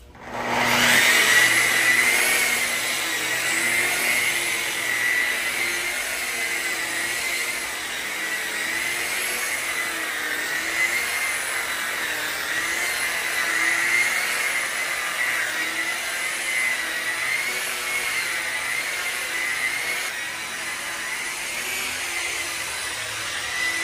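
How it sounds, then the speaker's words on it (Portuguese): A polisher running at full speed buffs a marble-effect painted wall finish in circular passes, giving a steady, loud motor whine with a high-pitched tone that wavers slightly for over twenty seconds, with no talking. "Movimento circular, eu trabalho na velocidade máxima, mas porém eu não aperto a politriz"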